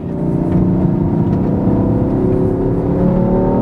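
A BMW M3 or M4 accelerates hard on a race track, its engine note rising smoothly in a loud, continuous rev heard from inside the car.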